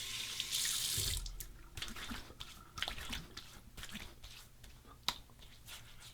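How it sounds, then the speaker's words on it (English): Cold tap water runs loudly into a sink at first, then drops to trickles and splashes as a Muhle R41 safety razor is rinsed, with scattered clinks and drips close by. "A quick rinse with cold water."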